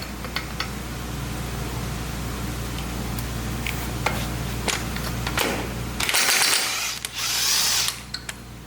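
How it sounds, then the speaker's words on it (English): Socket tool working on a Jeep Cherokee Chief wheel hub, heard as quiet mechanical whirring and scattered metallic clicks, with a louder burst of grinding toward the end. "now I'm going to be taking this socket to go ahead and take this wheel hub apart"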